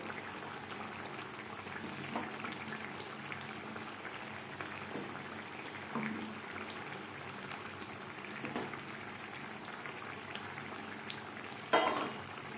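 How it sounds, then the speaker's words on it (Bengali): Lote fish and tomato simmer in a pot with a faint, steady bubbling hiss, quiet and even apart from a small clink near the end. "টমেটো সেদ্ধ হওয়া পর্যন্ত রান্নাটা করবো"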